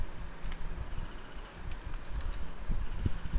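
Computer keyboard typing while entering VBA code for a form built without a userform, a steady patter of soft keystrokes with some louder clacks near the end, alone and fairly close.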